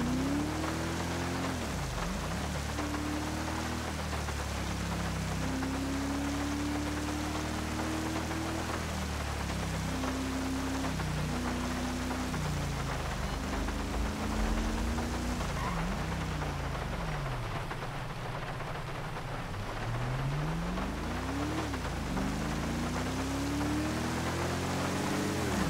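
Steady heavy rain hisses without a break through a rainy day in San Andreas in Grand Theft Auto V, with a low, wavering engine-like drone running beneath it.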